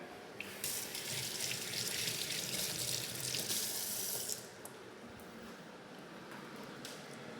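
A kitchen sink tap runs steadily while hands are washed, a close, continuous rushing of water that drops to a softer flow partway through.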